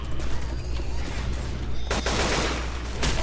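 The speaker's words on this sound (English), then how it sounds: "He's like just shooting me left and right." Dense rapid gunfire in a zombie shooter video game, continuous loud crackling bursts of shots that keep going throughout with a sharper volley near the end.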